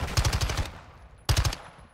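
Two quick bursts of rapid automatic gunfire from Warzone 2, each a tight rattling string of close, loud shots separated by a short pause, with no talking.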